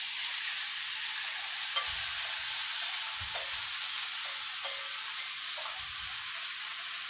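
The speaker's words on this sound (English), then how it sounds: "And my beef, strips of beef. And we're going to saute this together." Onion and beef strips sauté in a hot pan with a steady, bright sizzle. A few soft stirring scrapes break through it, and no one speaks.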